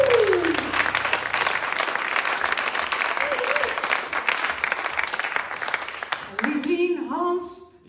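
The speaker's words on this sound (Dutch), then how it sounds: "Dan wil ik eventjes een applaus voor het Beaufort-huis dat ze dit hebben georganiseerd." Audience applause at a trumpet band concert in the Beauforthuis, a loud, dense burst of clapping that carries on steadily and then tapers off, giving way to a speaking voice and music-like tones near the end.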